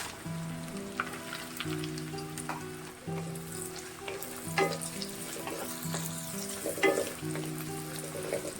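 Onions frying in mustard oil with a little ghee and whole mace, a steady close sizzle with occasional stirring scrapes and clinks, no talking.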